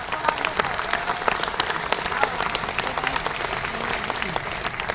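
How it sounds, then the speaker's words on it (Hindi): Dense, steady applause from a seated audience at an RCM ULP gathering in Vastral, Ahmedabad, sustained evenly for several seconds with crisp individual claps cutting through the wash. "उनके लिए साथियों एक बार जोरदार तालियां बजाएं आप"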